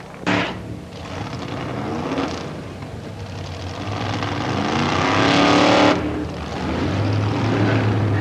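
An AA fuel drag racing car makes a run at Palmdale Raceway, a loud roaring engine blast that builds, peaks and trails off, then rises again, heard alone without talk.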